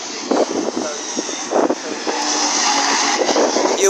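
Mini Cooper race cars pass one after another on the Castle Combe circuit, a run of engine roars and whooshes swelling and fading with some skid-like hiss, while people talk nearby.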